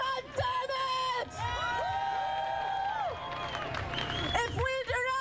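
A crowd at a rally in Minneapolis cheers, whoops and shouts loudly and without a break, with high sustained yells rising above the roar.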